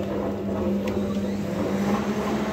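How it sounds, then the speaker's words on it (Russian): The fan of a pellet cooler runs with a loud, steady drone and a low hum, constant and close, with no voices over it. "вот так вот включается вентилятор тоже"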